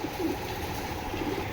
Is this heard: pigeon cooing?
yes